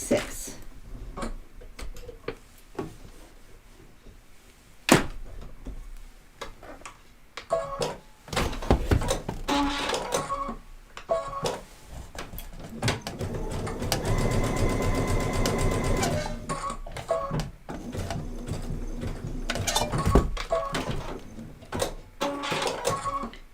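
A sewing machine runs a zigzag stitch across a fabric face mask, its needle clattering in steady bursts with short pauses, growing louder and denser midway, close and clear.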